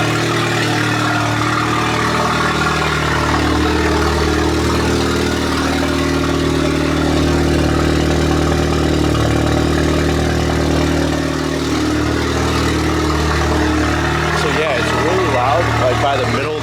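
Audi A3 with a Stage 2 tune idles with a steady low exhaust drone and deep rumble, constant and close, with a faint rise in revs near the end; a voice talks over it.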